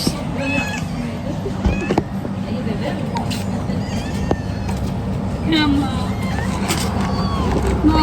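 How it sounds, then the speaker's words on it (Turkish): Several cats meow repeatedly, some close and some farther off, while people talk nearby over outdoor background noise at the seaside. "Kediler var şu an karşımda."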